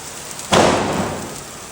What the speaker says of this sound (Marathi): लय पाऊस आहे रे